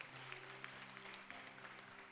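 A congregation at a Sunday church service claps together in faint, continuous applause, the quick hand-claps over a low, steady background hum.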